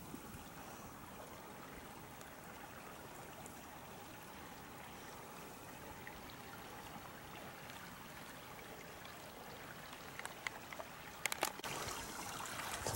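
Clear water of Honey Creek flows beneath a bluff, a steady soft trickling and babbling that carries on alone, with a few sharper splashy bursts near the end.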